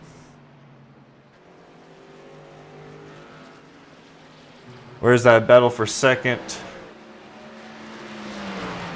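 Race trucks lapping the Glen road course in a racing video game, engines droning and shifting in the background, then a loud burst of revving as trucks pass close, under a commentator's voice.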